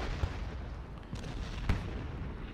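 An artillery battery firing in Ultimate General: Gettysburg: a few deep, booming thuds land over a constant dense rumble of battle noise, with two heavier blasts standing out.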